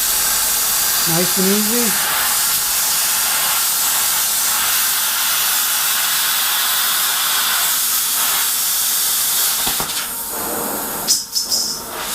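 A plasma cutter slices a metal panel with a loud, steady hiss that sputters and breaks up near the end, while a voice briefly speaks early on.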